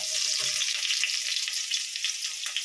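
Ginger garlic paste sizzles in a little white oil for a chilli chicken dish, making a brief, bright, steady crackling hiss close by with no voices.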